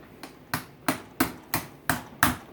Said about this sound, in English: Gotta hammer it some more.